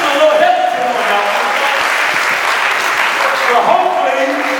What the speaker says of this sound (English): Can we clap on that?